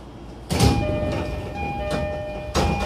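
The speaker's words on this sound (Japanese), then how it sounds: "ちょうどドアが開きます。" A train's sliding doors open at a station with a loud thump and rolling slide, followed by soft mechanical sounds and another thud near the end, over a steady tonal hum from the carriage.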